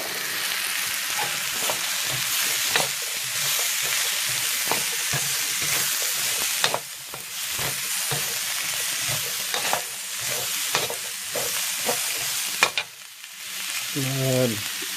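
Onions and zucchini stir-frying in oil for fried rice, a strong continuous sizzle with recurring scrapes and clatter of a utensil stirring against the pan.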